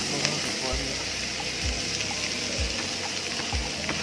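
Sukuma wiki greens dropped into a pan of golden brown frying onions, giving a steady close sizzle with a few soft thuds and stirring knocks.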